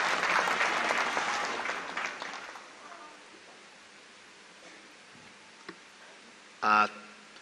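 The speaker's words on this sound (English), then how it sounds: "Can we clap for that student?" Applause from a graduation ceremony audience, cheering a procurement bachelor's graduate. A loud, dense burst of clapping over the first three seconds fades to a quiet hall with a few scattered knocks and a brief sharp noise near the end.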